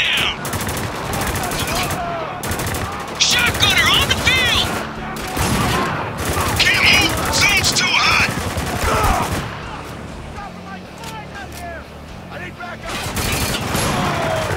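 Rifle fire in Spec Ops: The Line, with heavy overlapping volleys and bursts of shots firing loud and close in a battle, mixed with shouted voices and game effects.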